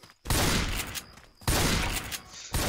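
Automatic weapon fire in the Left 4 Dead video game comes in two long, loud, close bursts of rapid shots, separated by a short pause, with a third burst starting at the end.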